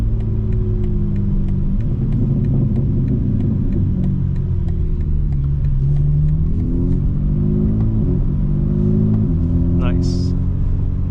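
A 2025 BMW M4 Competition xDrive cruises at night, its engine humming low and swelling in smooth revs as it accelerates, heard from inside the cabin while people talk.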